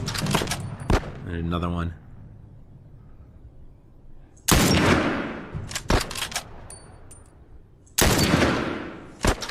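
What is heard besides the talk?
gunshots from the video game The Last of Us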